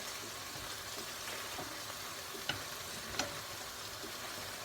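Chorizo frying in a pan makes a steady, even sizzle, with a couple of soft clicks as the pieces are turned over.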